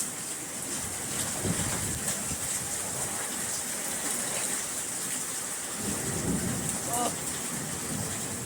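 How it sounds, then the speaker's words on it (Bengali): Heavy rain pours steadily, a dense hiss with a few faint low rumbles and brief splashes, no talking. "মুসুলধারে বৃষ্টি হচ্ছে"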